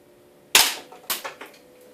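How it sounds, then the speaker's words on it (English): A Walther P22 airsoft pistol fires indoors at a target about ten feet away, one sharp crack followed by a few quicker, lighter clatters as the pellet strikes and ricochets. "This is first shot. Didn't take it down and ricocheted right back."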